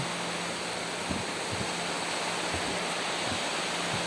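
Steady, loud rushing of running water, a constant hiss of a hose pouring into a tank, with a few faint low knocks underneath.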